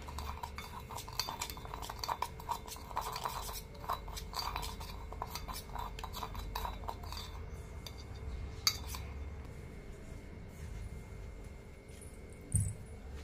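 Spoon stirring fried corn chivda with red chilli powder and spices, a steady run of soft metallic scrapes and clinks close by, with no talking.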